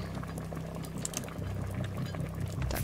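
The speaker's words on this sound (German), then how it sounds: "Kocht schon fröhlich vor sich hin." Soup boiling in a pot in the survival video game Raft, a steady close bubbling and gurgling that continues throughout with no talk over it.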